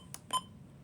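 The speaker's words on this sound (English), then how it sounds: "This one is basically the same alert tone, except it's faster" A Midland WR-400 weather radio sounds its alert test, two short quick electronic beeps, faint and close, followed by quiet.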